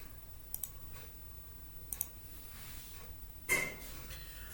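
Mouse clicks on a computer while buying a Pixels VIP membership, a few sharp isolated clicks spaced across a quiet background, the last one slightly louder with a short ringing tone.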